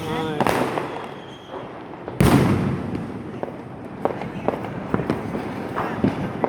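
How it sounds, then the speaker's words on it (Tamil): Diwali fireworks and firecrackers burst over Chennai in sharp, loud cracks. Two big blasts come early and a string of smaller pops follows amid steady crackle, while a voice talks over them. "வான வேடிக்கைகள் பார்த்து கொண்டிருக்கிறீர்கள்"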